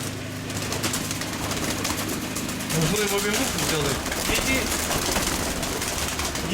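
A young pigeon, a hen offered for sale, coos softly in the middle of the stretch, beneath steady nearby talking and a busy background of other birds.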